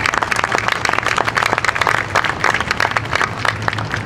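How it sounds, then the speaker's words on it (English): A crowd at a community veterans honoring event claps in a dense, uneven patter that stays fairly loud and close throughout. "Let's give him a big round of applause"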